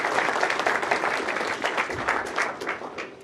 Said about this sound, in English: big round of applause for the team over there